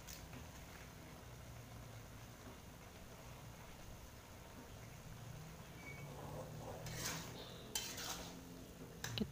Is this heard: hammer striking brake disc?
no